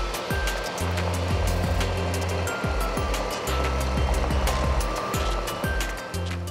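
Parched Corn Creek flows and splashes in a steady, loud rush close by, with faint low engine noise behind the water.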